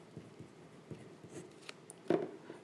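Pen writing a math solution on paper, soft scratchy strokes in short bursts with one louder tap near the end, close and quiet.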